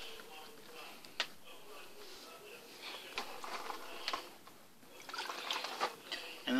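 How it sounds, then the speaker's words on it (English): Garfish fillets are rinsed in a bowl of salt water, giving soft close splashes and trickles with a few sharp clicks and knocks, quiet and intermittent. "Give it a rinse in my salt water."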